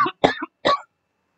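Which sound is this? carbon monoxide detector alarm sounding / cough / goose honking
cough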